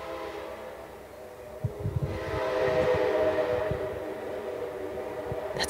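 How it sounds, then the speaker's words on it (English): A train passing, played over the air on a radio show: a low rumble swells and holds, with rhythmic wheel thumps on the rails and a sharp burst at the very end, no talking. "We just have to hear the train."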